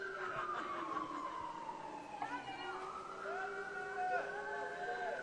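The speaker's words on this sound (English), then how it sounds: "We'll wait for the sirens." Distant wailing police sirens rise and fall, several tones overlapping as the vehicles pass, steady and moderately faint over a murmuring outdoor background.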